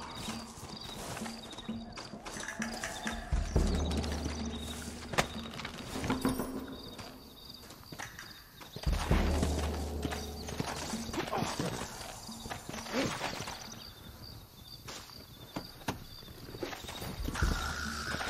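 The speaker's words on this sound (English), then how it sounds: "Looks like Carlos left us some horses." Horse hooves clop and pound in a Western video game set in Red Dead Redemption, a steady rapid rhythm of several horses close by, with a heavy low thump of action and background game sounds.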